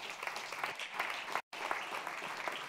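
Church congregation applauding during a Spanish-English bilingual service, a steady dense wash of clapping that cuts out for an instant midway and then resumes.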